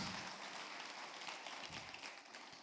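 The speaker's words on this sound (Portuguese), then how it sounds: "Pode aplaudir a Jesus, porque essa foi boa mesmo" Church congregation applauding for Jesus during a sermon, a dense, sustained wash of many hands clapping at once, steady and fairly distant, fading slightly toward the end.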